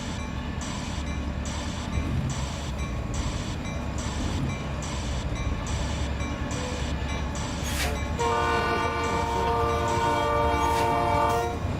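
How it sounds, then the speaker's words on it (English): A train rolls past in American Truck Simulator, a steady loud rumble and clatter of railcars with a long multi-tone horn blaring near the end, heard alone without talk. "Oh, that train's loud."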